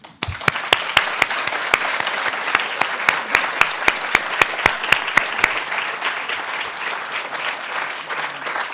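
Lecture audience at an inaugural professorial lecture breaks into steady applause, many hands clapping densely with a few sharp individual claps standing out, sustained for several seconds before tapering.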